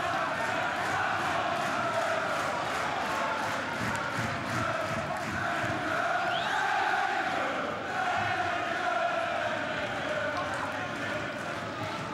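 Football stadium crowd at the NEC–Vitesse Gelderland derby, a dense, continuous roar of chanting and cheering fans that swells slightly over time, loud and sustained without pauses.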